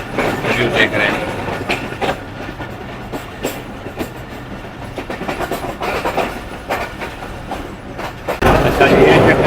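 Train pulling out of Rawalpindi railway station, with steady rumbling rail noise, clicking wheels and faint background voices, growing louder near the end.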